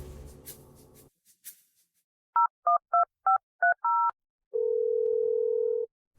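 A mobile phone keypad is dialed with six short tone beeps in a quick, slightly uneven rhythm, followed by a long steady ring tone, all clear and close after a brief murmur of background noise.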